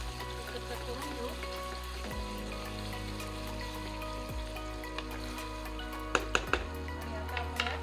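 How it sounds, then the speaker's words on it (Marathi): Peas fry in oil in a pan for pav bhaji, a soft, steady sizzle under a low electrical hum, with a few light utensil taps near the end. "थोडेसे वाटाणे तेलात फ्राय होऊ देऊ।"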